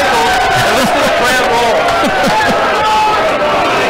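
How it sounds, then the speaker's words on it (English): A crowd roars at a country football grand final after a free kick, broad cheering and hubbub that fills the whole stretch, with a commentator's voice riding over the noise. "And listen to the crowd roar"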